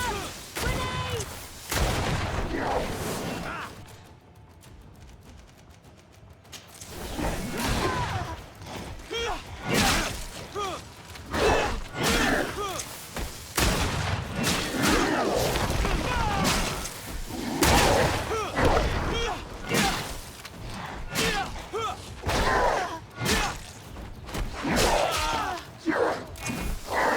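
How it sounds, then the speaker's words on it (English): Grenade blasts and gunfire in GreedFall combat, with dense bursts of cracking shots and shattering impacts across a long chaotic battle, briefly quieting before resuming, with voices shouting in the mix. "Watch out! Grenade!"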